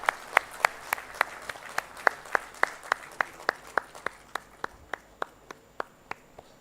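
Dignitaries on stage at an industrial summit inauguration clap in a sparse, evenly spaced rhythm of individual sharp claps, fairly quiet and heard alone.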